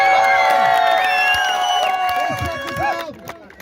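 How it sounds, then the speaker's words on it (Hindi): Crowd at a school tournament award ceremony cheering and whooping for the winners: loud, overlapping high shouts and whistles close by, tapering off toward the end, with only faint clapping underneath. "उनके लिए जोरदार तालियों से"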